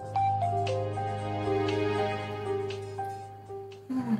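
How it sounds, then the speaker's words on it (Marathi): A mobile phone ringtone plays a bright electronic melody of clear repeated notes, loud and steady for several seconds in a domestic scene from a Marathi TV serial. "कुणाचा फोन येतोय सारखा तुला?"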